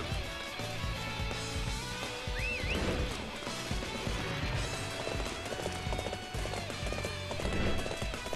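Galloping hooves clip-clop steadily from a horse running in the video game Dynasty Warriors 8, a quick continuous rhythm under dense battle music and effects, with a brief whinny partway through.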